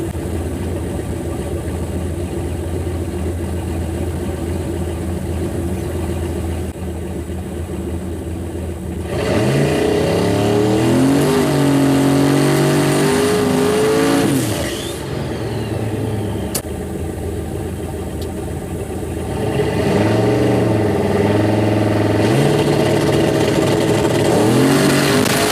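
A turbocharged LS 5.3 liter truck idles loudly up close, then revs and accelerates repeatedly on a drag strip pass, its engine note rising and falling in several long surges.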